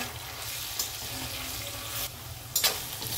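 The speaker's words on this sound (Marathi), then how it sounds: "आता आपण लसूण अद्रक कुटलेलं, ते अर्धी वाटी कुटलंय लसूण अद्रक, ते टाकून घेऊ। याला पण परतून घेऊ।" Crushed garlic and ginger sauté in hot oil for a vegetable biryani, a steady close sizzle with a few brief stirring scrapes and a clatter near the end, no talking.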